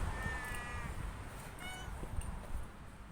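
A plump, shy cat in Turkey meows in a few drawn-out cries, close by over steady outdoor background noise.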